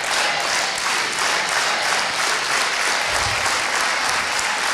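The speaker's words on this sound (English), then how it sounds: "Put your hands up. Let's do a unity clap." A lecture audience claps steadily together in a unity clap for several seconds, a dense, even wash of applause with no voices standing out.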